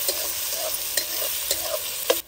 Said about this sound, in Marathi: बारीक चिरलेला कांदा। कांदा आता छानपैकी सोनेरी कलरवर परतून घ्यायचा आहे।